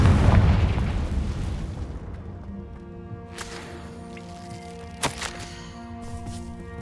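A Confringo spell explosion in Hogwarts Legacy booms loudly and then decays. A long ringing, shimmering tail follows, with a sharp crackling burst partway through.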